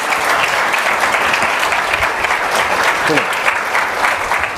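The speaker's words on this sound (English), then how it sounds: "Can we have another round of applause, please, for Rishi Sunak and Alexandr Wang?" Audience applause following a panel discussion on AI, sovereignty and strategy, a continuous thick wash of many people clapping, loud and steady for several seconds without pause.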